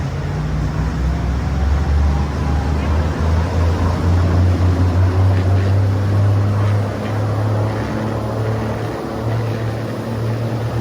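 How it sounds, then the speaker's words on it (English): A yacht's motorboat engines roar steadily at full throttle as the boat gets on a plane, a loud, continuous low drone with rushing water and wind noise throughout. "We'll go wide open, make sure the engines turn up to RPM, the boat gets on a plane"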